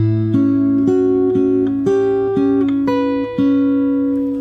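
Fingerstyle guitar plays the next bar of a song, close and clear. Sustained plucked notes and chord tones follow one another at a steady, unhurried pace, with no voice over them.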